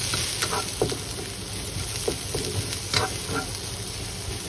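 Carrots and broccoli stems cook in a pan with a steady, moderate sizzle and occasional soft stirring taps, close up with no talking.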